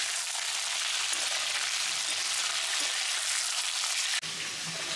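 Fish frying in a wok, a dense, continuous hiss of sizzling oil that holds steady and close throughout.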